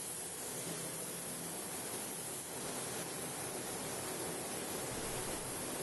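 A sprayer applies bathtub paint in a steady, faint, broadband hiss that runs unbroken for several seconds.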